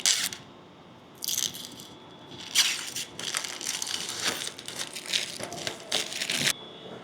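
Plastic film is peeled off the clear lid of an intake filter for a 5.0L Ford F150, heard as close crinkling and crackling bursts in several separate stretches.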